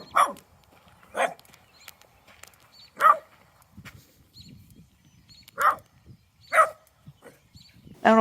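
A puppy barks at cows in a pasture in short, separate bursts, about six times with irregular gaps, at moderate distance, with quiet rustling and footsteps between barks.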